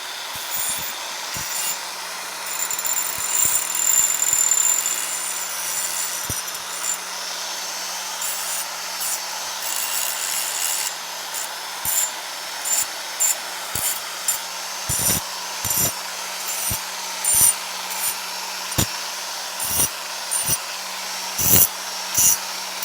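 A power tool drives bolts into brackets for a Gagsu 40K transmission cooler, giving a sustained close whirring run in the first half, then a series of short, sharp mechanical bursts and clicks spaced apart, with no talk.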